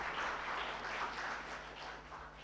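Steady applause from a crowd at a primary school graduation, a continuous wash of clapping heard at moderate distance, fairly soft and even throughout.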